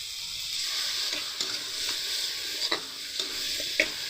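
Spice paste for cauliflower dalna stir-fried in a pan: a steady bright sizzle runs throughout, with a few spatula scrapes and stirs standing out now and then.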